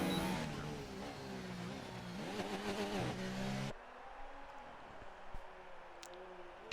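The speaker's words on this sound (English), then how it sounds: "Gambit seems to be redlining his Toro Rosso around the old final corner." A Toro Rosso race car in a Formula 4 racing game at Silverstone screams near the redline with a whining, pitch-shifting engine note, then drops abruptly to a quieter, more distant engine drone.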